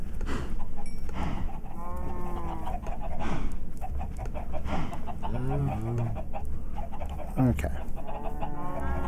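Minecraft chickens cluck repeatedly in short bursts around a farm, close and fairly loud, with a cow lowing among them and a brief spoken word from a player.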